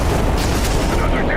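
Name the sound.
gunfire and explosions in the video game Starfield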